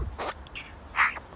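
A bird calls outdoors with a few short, harsh caw-like notes spaced irregularly, moderately near over faint background noise.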